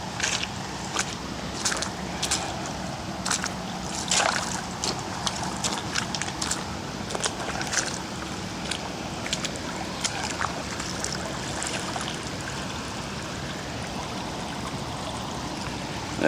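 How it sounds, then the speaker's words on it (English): Boots wading through shallow running stream water, irregular splashes and sloshing steps over a steady burbling flow, close by, with no talk. "We'll go into some running water here."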